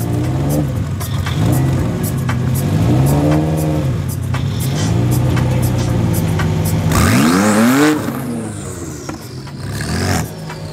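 Rear-wheel-drive Strada Performance BMW M3 and all-wheel-drive Audi RS7 race cars at Midvaal Raceway, with engines loudly droning, rising and falling as they rev, then a sharp acceleration that sweeps upward near the end.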